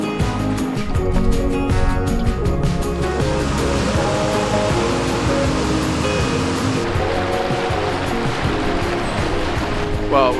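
Rushing creek beside a backcountry portage trail, a loud, dense, continuous roar of fast-flowing water close by, steady throughout with no clear breaks.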